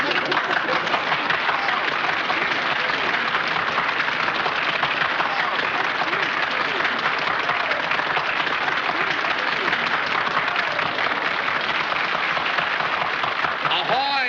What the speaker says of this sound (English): Mr. Watson, the audience is now applauding you.